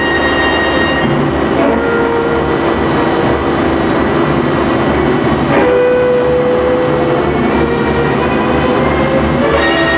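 A heavy crushing press starts up, giving a loud, steady mechanical drone with a low hum and faint whining tones that runs unchanged throughout.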